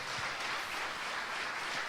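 Church congregation applauding at an evening service, a continuous even hiss of many hands clapping, fairly faint and distant.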